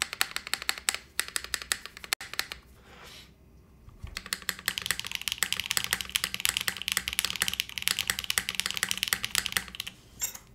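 Rapid typing on a DR-70F mechanical keyboard with an ABS case gives a close, bright, slightly plasticky clatter of keystrokes, a short burst, a brief pause, then a longer dense run of even clicks.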